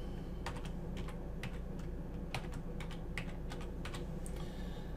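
Rapid keystrokes on a computer keyboard as a password is typed, a steady run of close, crisp clicks with uneven spacing and no voices.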